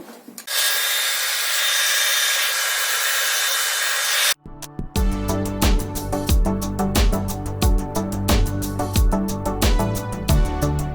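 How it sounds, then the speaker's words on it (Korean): A hair dryer blows with a steady, loud rushing hiss for a few seconds while drying a brushed-on coating on a small wooden item, then cuts off and gives way to rhythmic scraping and knocking. "그다음에 말리실 때는 드라이기 필요합니다."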